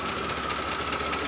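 A car engine idling low just after a restart, a faint steady mechanical hum with a rapid, even pulsing rhythm and no voices.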